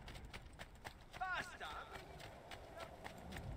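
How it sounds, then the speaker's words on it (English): Galloping horse hooves in the video game Assassin's Creed 2 keep up a steady clip-clop rhythm under game sounds, with a brief burst of other game noise partway through. "Alright, on the horse."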